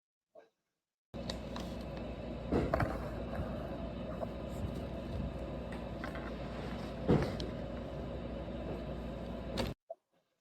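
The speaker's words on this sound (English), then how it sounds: "That sound is all fireworks." Distant fireworks heard from indoors near a sliding glass door: a steady low rumble with a few dull, muffled booms, the stronger ones rising at intervals, all soft and far off.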